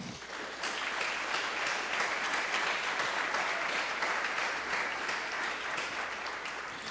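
Congregation in a church clapping together, a dense, steady wash of hands that starts after a brief pause and carries on evenly at moderate volume, with no voices over it.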